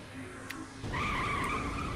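A car in Saints Row: The Third skids hard after a short stretch of engine rumble, a loud sustained tire squeal rising over the motor and holding to the end, with no talking.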